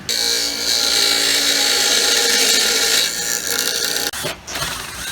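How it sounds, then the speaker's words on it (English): A bench grinder grinding brass whines loudly and steadily with a high metallic ring, grinding for several seconds before cutting out abruptly, then a brief clatter. "we're just gonna grind that off on the bench grinder"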